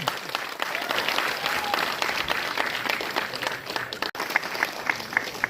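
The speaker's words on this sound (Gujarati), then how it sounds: "જોરથી તાળી બતાવો" Sustained applause from a large crowd at a ward-level welcome for a state party president, dense steady clapping filling the whole stretch with a brief dropout near the end.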